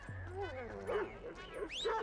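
A dog in the GTA V video game gives a quick burst of high yips and whimpering cries, close and fairly loud, over a low background hum.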